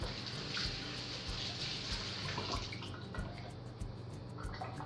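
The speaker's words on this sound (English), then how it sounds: "I'm gonna go wash my hands." Tap water running while hands are washed, a soft steady splashing stream with small drips and rinsing movements, fairly faint and with no talking.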